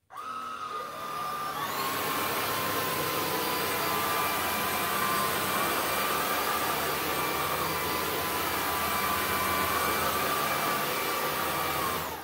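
A Sanitaire vacuum cleaner switches on and spins up to high speed within about two seconds, then holds a loud, steady whooshing whine, running alone without talk.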